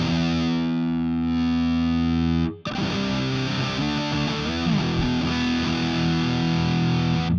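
Electric guitar played through a virtual Soldano SLO 100 amp on its second drive channel, heavy metal-style distortion: sustained chords ringing, a brief cut, then chugging riffs at a steady loud level.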